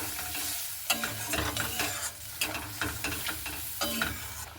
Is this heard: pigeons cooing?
no